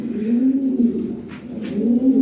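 A Lahore Siraji pigeon coos nearby in low, soft, rolling calls, two drawn-out phrases with a short pause between, no talking.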